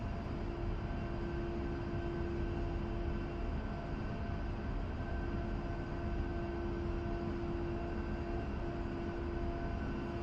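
Military jet engine in a DCS or War Thunder flight sim taxiing to the runway, a steady droning hum with a sustained tonal whine, unchanging and continuous with no talk.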